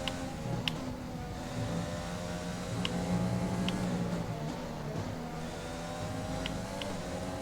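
An F1 race car engine in F1 2020 drones steadily at high revs, holding a continuous whining roar with slight pitch shifts and occasional clicks, close and loud throughout without speech.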